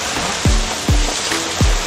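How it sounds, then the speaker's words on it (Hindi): Heavy rain pours down in a steady, dense hiss, with three deep low whooshing swells at regular intervals breaking through the constant wash of water. "बारिश देखो बहुत ही तेज हो गई है।"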